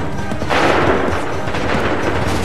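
A dense musket volley roars in Assassin's Creed 3, a loud, sustained crackling burst of many guns firing together in a noisy battlefield with no clear gaps.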